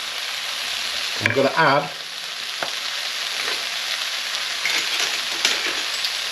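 Leek and bacon sizzle steadily in a hot pan for a leek, bacon and ham tartiflette, a continuous close frying hiss, with a brief spoken phrase near the start.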